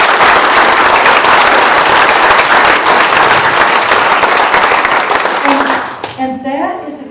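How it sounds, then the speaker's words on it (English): A crowd at a county Republican Party political event breaks into loud, sustained applause that fills most of the stretch, then fades out near the end as a voice begins to speak. "let's give them a round of applause"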